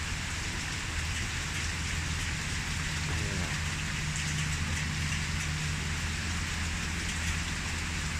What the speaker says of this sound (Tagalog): kasi mayroong ulan.